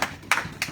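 Brief clapping from a church congregation during a French-language worship service, three spaced hand claps, close and moderately loud.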